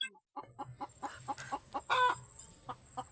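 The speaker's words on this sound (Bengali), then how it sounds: "দেখো বন্ধুরা, হাঁস ছটফট করছে।" A duck struggling and flapping as it is caught for slaughter outdoors, with a string of short rhythmic clucking, quacking calls and bursts of flapping that stay close and fairly loud, plus a low steady hum underneath.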